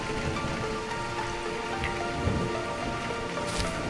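Steady rain pattering on surfaces with a low rumble underneath, continuous and fairly close.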